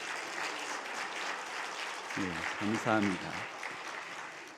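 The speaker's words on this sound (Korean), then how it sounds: "우리 감사의 박수 한번 하겠습니다." Church congregation clapping in applause during a Sunday worship service, a steady broad wash of many hands at moderate loudness, with a voice speaking briefly over it near the end.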